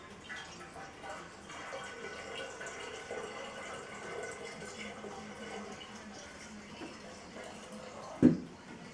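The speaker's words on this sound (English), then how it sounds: "Here I got some bottled water. I'll go ahead and top this off with that." Bottled water pours steadily into a batch of elderberry wine to top it off, giving a soft continuous trickle with a brief sharp clunk near the end.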